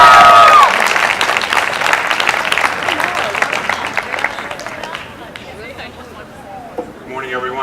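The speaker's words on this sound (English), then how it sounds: "please give a big round of applause for Mayor Scott Lang" Loud audience applause and cheering at a United Way Youth Day of Caring event, welcoming Mayor Scott Lang; dense clapping fades gradually over several seconds, with crowd chatter mixed in.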